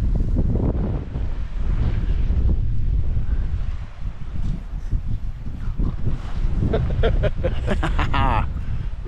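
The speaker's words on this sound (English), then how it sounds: "the wind was coming from this side and it was just horrendous" Strong, gusty wind roars across a hillside at a wild camp in the Cheviots, buffeting the microphone continuously and loudly, with a voice briefly heard under it near the end.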